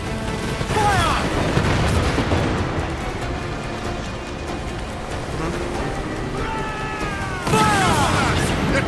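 Ship cannons boom in a naval battle in Assassin's Creed Black Flag, heavy repeated blasts under crew members shouting orders over a constant roar of sea and wind.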